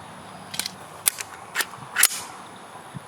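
Noveske Space Invader 9mm pistol caliber carbine fires several sharp, separate shots at irregular intervals, crisp cracks standing out against quiet background.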